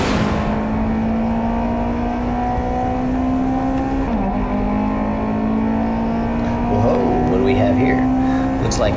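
A Honda S2000 race car's engine drones loud and close from the cockpit during a time trial at ORP South Loop. The pitch climbs steadily as it accelerates, with a brief dip around a shift, under a steady roar of road noise.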